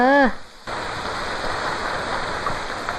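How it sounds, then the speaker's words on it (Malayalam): Steady, fairly loud rain pours continuously after a brief voice at the very start, filling the rest of the clip with an even, close hiss and no clear breaks. "മഴ."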